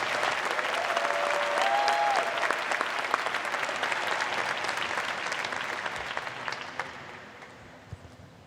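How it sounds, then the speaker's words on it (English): Sustained applause from a large audience at a university diploma and awards ceremony honouring Master of Philosophy and PhD graduates, dense steady clapping that gradually tapers off over several seconds. "please join me with a round of applause for all of our Masters of Philosophy and PhD graduates"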